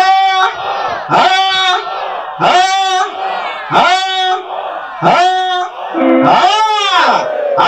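A congregation at a church feast-day service loudly acclaims in repeated voiced cries, about one burst per second, continuous and close.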